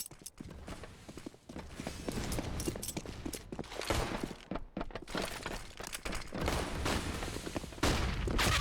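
Gunfire in Counter-Strike on the Train map during a competitive match: rapid bursts of shots and clattering impacts that run almost without pause at moderate volume, with no speech.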